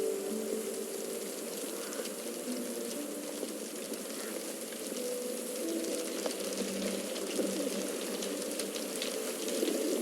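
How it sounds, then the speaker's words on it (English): Steady rain falls through an outdoor scene in a Sherlock Holmes video game, a soft continuous patter with a faint murmur beneath it and occasional bird coos in the background, no talking. "This dreary rain is making a miserable day even worse."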